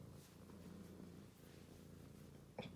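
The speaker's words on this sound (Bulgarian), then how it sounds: "Та му има и котката." Pet cat purring, a soft, low, continuous rhythmic rumble very close and faint, with a brief small noise near the end.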